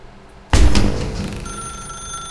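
An old-style telephone rings in The Stanley Parable video game: a loud bell burst starts suddenly after near silence, then lingers and fades into a ringing electronic tone.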